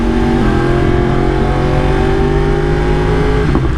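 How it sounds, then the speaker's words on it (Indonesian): A modified 2016 Yamaha R1-M motorcycle engine drones steadily and loudly while riding, a constant close-up mechanical roar with stable engine tones throughout and a slight shift near the end. "Jadi motor ini adalah Yamaha R1M tahun 2016 teman-teman."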